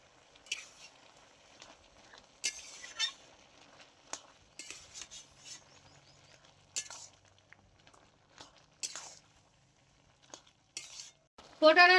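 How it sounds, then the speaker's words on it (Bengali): Ground spice paste, whole chilies, cumin and coriander go into a pan, followed by intermittent stirring and spatula scrapes over a quiet sizzle. Sharp clinks of utensil against pan recur throughout, close and moderately loud. "দিয়ে দিচ্ছি বেটে রাখা মশলা, গোটা লঙ্কা, গোটা জিরে, গোটা ধনে।"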